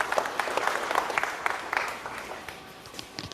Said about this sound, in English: Let's have a round of applause for Dean Barrow.